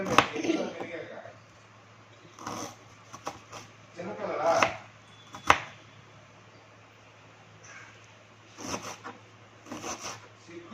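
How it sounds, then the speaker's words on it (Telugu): Knife chopping raw green banana and onion into small pieces for a fry, with sharp irregular chops in bursts against a low steady hum, while a person talks at times. "ఇంత చిన్నగా కట్ చేసుకుంటేనే ఫ్రైకి చాలా టేస్టీగా ఉంటుంది"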